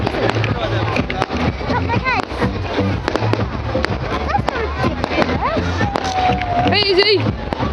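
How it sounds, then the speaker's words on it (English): Bonfire night fireworks go off outdoors, with repeated pops, crackles and rising whistles, one sharp shriek near the end, while people talk over them nearby. "Got some fireworks going."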